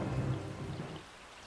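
A low roll of thunder with rain falling fades out over a brief moment, soft and distant beneath the patter.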